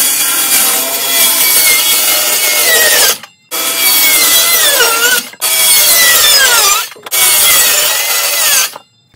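A power saw rips wood into strips for a homemade RC car ramp, with four loud, close passes of harsh buzzing cutting. Each one is separated by a short silent gap and has pitch sweeps as the blade bites.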